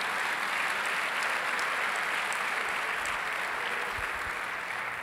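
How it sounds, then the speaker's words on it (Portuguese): Church congregation applauding during a worship service, a steady dense wash of many hands clapping together throughout, fairly close and even in loudness with no talk over it. "Vamos dar um aplauso ao Senhor por essas bênçãos todas?"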